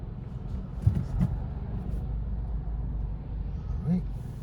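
Road traffic pulling away around a stationed learner car on a test route, a steady low engine and tyre rumble with a couple of brief louder passes, under occasional speech.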